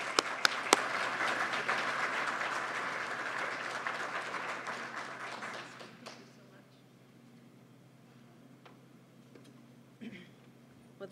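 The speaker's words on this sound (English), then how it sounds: "a big round of applause for bringing us all together today" A room of people at an academic colloquium applauds steadily for several seconds, then the clapping fades out into quiet.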